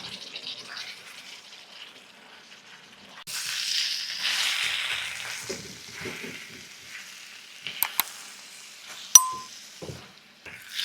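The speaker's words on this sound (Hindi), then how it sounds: "आठ से 10 मिनट हो गए हैं गोश्त और प्याज को भूनते हुए" Beef and onions fry in a karahi with a soft sizzle that swells when stirred, followed by scattered clinks of a utensil against the metal pan.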